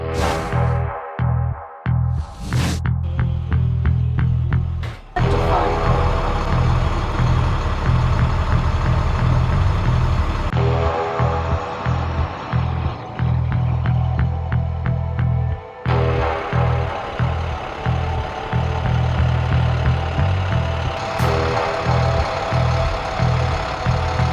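A converted school bus (skoolie) engine drives along with a loud, steady low rumble and an uneven, chugging pulse that carries through the whole stretch with no voices.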